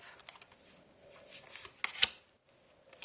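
Tarot cards shuffle softly and close by in a few short riffling bursts, with quiet papery slaps between them.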